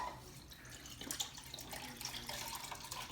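Chicken broth pours steadily into a measuring cup, a quiet continuous liquid splash and trickle running alone for a few seconds.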